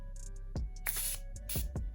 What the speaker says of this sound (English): This is my Morphe mattifying setting mist. The cool thing about it is when you spray it up close on your hand